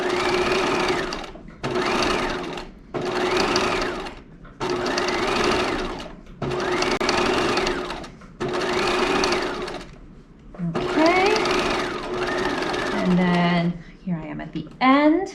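A sewing machine runs in short repeated bursts while understitching along a fabric seam, close and loud, with brief pauses between runs and a little handling noise near the end.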